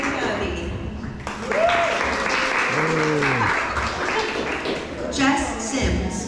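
A crowd at the opening reception of the Festival of Books in the Alleghenies claps steadily for festival volunteers, a sustained round of applause that surges midway, with people talking over it.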